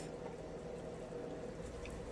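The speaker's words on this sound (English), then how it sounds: "Now I'm sure that you guys can hear the nice sizzle that's happening here." Vegetables and peppers for a beet and rice noodle Thai bowl sizzle steadily in a pan, a soft, continuous frying hiss with faint bubbling, low in level and without voices.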